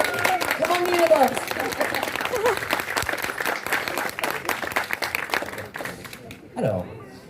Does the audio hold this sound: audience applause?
yes